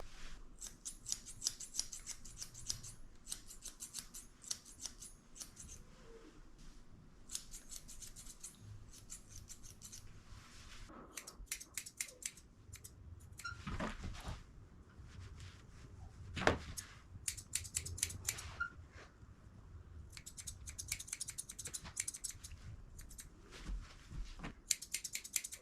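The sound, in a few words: curved thinning shears trimming a Maltese dog's hair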